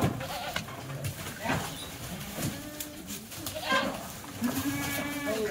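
Goats bleat in several short cries while being loaded for transport to Shankeshwar, Karnataka, heard over steady handling noise and people talking nearby.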